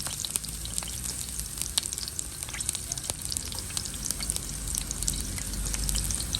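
Garlic frying in a pan, a steady close sizzle with scattered pops and crackles that continues without pause for several seconds; no talking.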